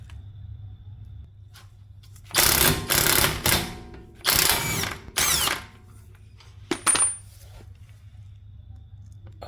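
Power tool loosening the axle nut on a Honda Civic with a 32mm socket during a CV axle shaft replacement: two loud broadband bursts of several seconds each, then a brief clack, with quiet mechanical hum in between and no talk.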